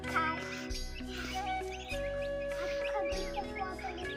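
Chickens and ducks at feeding time in a rural yard, with busy overlapping clucks and calls near and far along with scattered bird chatter under a steady low hum.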